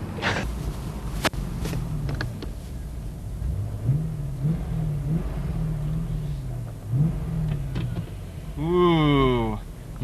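A new Corvette at a 1996 auto show drives and revs, engine notes swelling and climbing in several rising pulses, ending in a loud higher rev, with background crowd noise and clatter around it.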